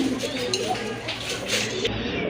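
Low soft cooing of pigeons at a pigeon farm sale, mixed with a busy background murmur and voices, continuous and fairly close.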